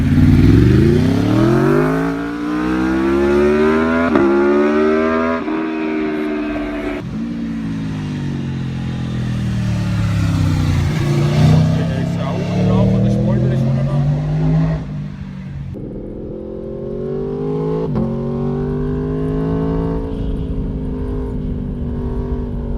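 Four-cylinder sport motorcycle engine revving hard, climbing through the gears in long rising pulls with brief shifts, loud and close, a smooth high-pitched inline-four howl that rises, dips and surges again throughout.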